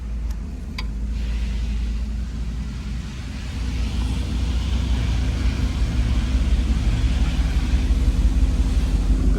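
A 1964 Cadillac Eldorado engine idles and rolls out at a low, steady rumble, fairly quiet and smooth, with no voices over it.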